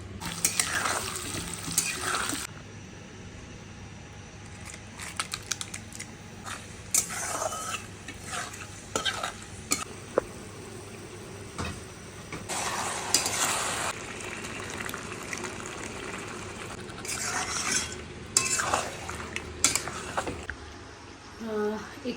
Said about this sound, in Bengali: মাটনটাকে আমি পুরো কষে নিচ্ছি ভালো করে